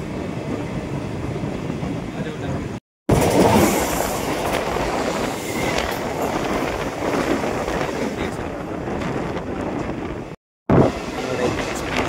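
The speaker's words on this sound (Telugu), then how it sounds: "మన ట్రైన్ అయితే బేగంపేట్ నుంచి అయితే డిపార్ట్ అవ్వడం జరిగింది" The Guntur–Aurangabad Express pulls out of Begumpet station with a broad, steady rumble of wheels and carriages, loud and close, briefly cut by two short gaps.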